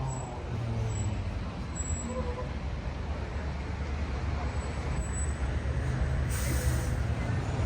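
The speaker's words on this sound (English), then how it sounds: "We got the famous double-decker red buses throughout the city." Red double-decker buses move through London street traffic, making a continuous rumbling roar of engines and tires at a steady, moderate level.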